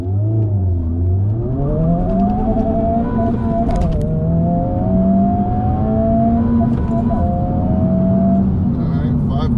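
A 2023 Honda Civic Type R accelerates hard from a standstill on a 0-60 run, its engine note climbing loud and close with a clear upshift partway through, then pulling steadily higher again; a voice talks over it.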